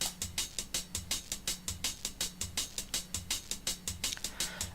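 Free hip-hop drum loop from the Krupp drum kit, a steady looped beat with punchy kicks and crisp snare and hat hits repeating in a tight, even rhythm, loud and alone.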